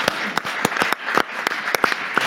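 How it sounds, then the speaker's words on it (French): Audience applause at a civic event in Nantes: a modest group clapping in distinct, spaced bursts rather than a dense roar, fairly close and clear with no talk over it. "Applaudissements pour Sharon Elbaz."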